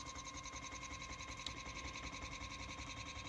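A big 3D-printed pulse motor rotor spins a stepper motor used as a generator, giving a steady, fast, even mechanical whir with a faint tonal hum, continuous and unbroken at moderate distance.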